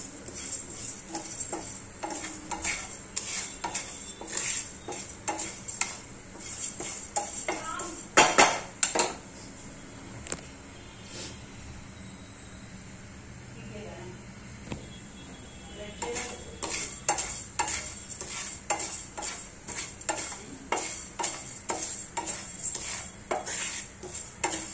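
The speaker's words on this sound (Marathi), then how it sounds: "आता हे तांदूळ भाजून घेते। तांदूळ थोडेसे हलके ब्राऊन कलर होईपर्यंत भाजायचे।" A spatula scrapes and taps rhythmically against a pan as rice is dry-roasted and stirred for rice kheer, a near, continuous metallic clatter with a brief pause in the middle and faint sizzle beneath.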